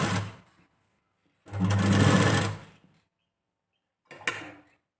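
A sewing machine stitches a katori blouse in three short bursts of rapid mechanical whirring, the middle run longest, separated by silent pauses.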